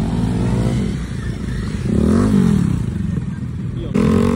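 Honda Grom motorcycle revving at an outdoor car meet, a loud close engine rising and falling through several throttle blips, with people talking nearby.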